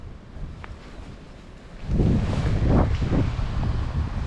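Strong wind gusts buffet the microphone outdoors on a trout-fishing trip, a steady low rush at first that swells into heavy, roaring blasts after about two seconds and keeps pushing on, with no voices.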